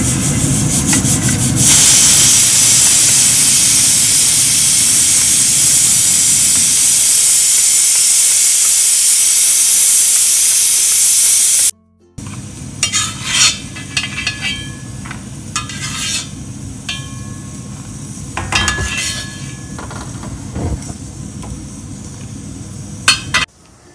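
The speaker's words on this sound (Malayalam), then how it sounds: "ഉണക്കമുന്തിരി ഇട്ട് കൊടുക്കാം." Raisins frying in a pan for bamboo rice payasam give a strong steady hiss that fades, then softer stirring scrapes and crackles close by, no voices.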